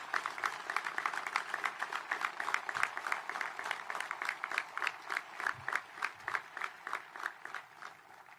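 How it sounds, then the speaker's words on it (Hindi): An audience at a stadium inauguration ceremony in Pune claps in a moderately distant, even wash of applause that gradually turns into slower, more rhythmic unison claps. "एक बार अपने स्थान से ही तालियां बजाकर सभी का अभिनंदन"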